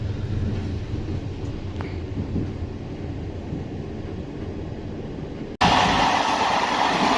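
A passenger train rumbles along steadily on its approach to Marrakesh, a constant low roar of wheels and carriage heard from inside, turning suddenly louder and brighter near the end.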